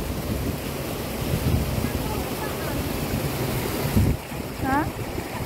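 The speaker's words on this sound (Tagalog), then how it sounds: "Ang hangin." Wind blowing along the seashore, a steady broadband rush with surf-like noise and gusts buffeting the microphone, a short swell near the end and brief chirpy sounds, heard alone without talk.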